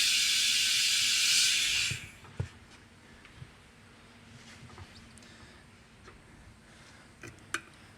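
Loud steady hiss of air rushing as big tyres on a Pajero Mini inflate, cutting off after two seconds, followed by quiet background with a few scattered clicks.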